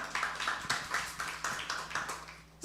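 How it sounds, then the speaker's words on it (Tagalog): A church congregation claps together, the applause rising in a steady rhythm of bright, even pulses that sound moderately close and hold for a few seconds before fading. "Pwede ba isang malakas na palakpak para kay Lord?"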